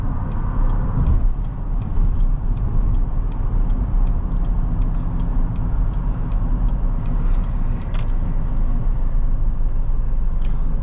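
Cabin of a 2022 Cadillac XT5 with the 3.6 V6 and AWD while driving: a steady low road and engine rumble with tyre hum and faint interior rattles, even and continuous, no talking.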